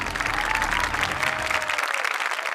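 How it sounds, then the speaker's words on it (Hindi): An audience claps steadily at a grand finale of a stunt challenge show, with dense continuous applause from a crowd that thins slightly toward the end. "ताहा के लिए तालियां होनी चाहिए।"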